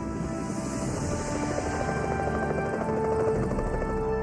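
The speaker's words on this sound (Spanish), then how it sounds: "escuché el ruido del rotor del helicóptero" A helicopter's rotor drones with a steady, pulsing chop, loud and continuous, mixed with rushing wind noise and no voices.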